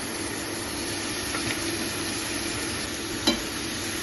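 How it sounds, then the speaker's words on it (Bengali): Spices sautéing for a Bengali curry in a pan, a steady close sizzle with faint stirring scrapes running throughout and one brief clink near the end. "সব মশলাকে খুব ভালো করে কষিয়ে নেব"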